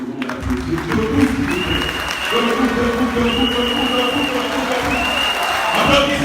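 Crowd applauding and cheering at a Rassemblement pour la Côte d'Ivoire (RACI) conclave political rally for a politician, with dense clapping under sustained tonal sounds and amplified voices, close and loud throughout.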